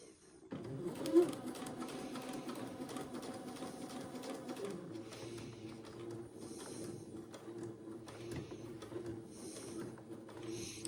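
A sewing machine stitches the vent of an Eton suit, a quiet, even mechanical whir that runs steadily after a brief start.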